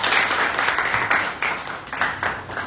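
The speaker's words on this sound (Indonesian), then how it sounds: "kita berikan aplaus untuk kelompok 5" A classroom of students applauding a presentation group, a lively burst of many hands clapping close by, swelling in uneven waves throughout with a few voices mixed in.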